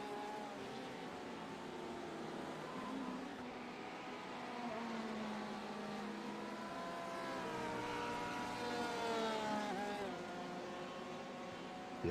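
A Porsche race car drives on a circuit, its engine note rising and falling in pitch as it accelerates and shifts, a steady mid-distance drone with no talking.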